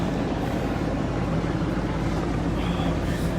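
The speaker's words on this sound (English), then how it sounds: "you guys can hear the helicopters over this area of town." Helicopters fly over a city district in Minneapolis at night during protests, producing a steady, distant low rumble that fills the background without a break.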